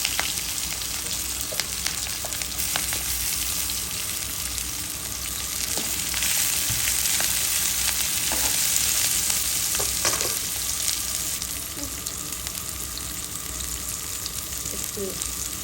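Onions and sliced green chilies frying in hot oil after tempering spices sizzle loudly and steadily, with stirring scrapes and soft clinks scattered through the close, continuous hiss.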